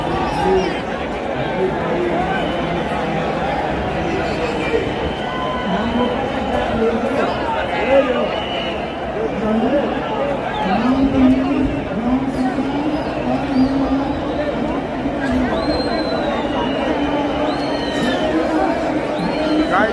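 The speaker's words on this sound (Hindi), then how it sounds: "गाइस देख सकते हो पूरा भीड़ है, देखो भीड़ है" A dense crowd of pilgrims gathers at Haridwar during a festival of Lord Shiva's devotees. Steady outdoor babble of many voices and scattered shouts rolls on without a break, close and loud, with someone talking over it.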